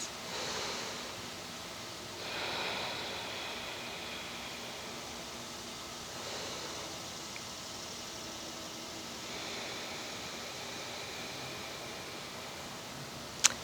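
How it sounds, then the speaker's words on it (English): Slow ujjayi yoga breathing, each long airy exhale like soft ocean surf from the back of the throat, repeats about four times at a relaxed pace. The breaths are quiet and close, with no talking. "It's an audible breath. And it sounds a little bit like the ocean in the back of your throat."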